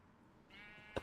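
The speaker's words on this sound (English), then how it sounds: "The sheep is very much not supposed to be in hell." A sheep in the Minecraft video game, standing in the Nether, gives one short, sharp bleat near the end, after a stretch of quiet, low game ambience.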